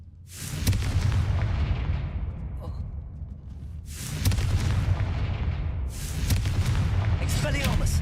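Confringo fire-spell blasts in Hogwarts Legacy, three big booming explosions with long rumbling tails spaced a few seconds apart, loud and close, under a man calling out spell names.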